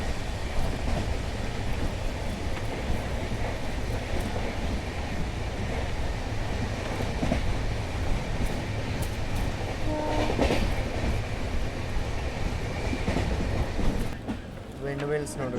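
Hubballi to Mysuru Hampi Express running on rails at speed, heard from on board: a loud continuous rumble with rhythmic wheel clatter and wind rush, a horn sounding partway through.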